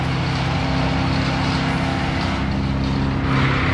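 Tree trimming machinery runs outdoors as a steady, loud, broadband engine drone with a low rumble, continuous throughout with no pauses and no speech.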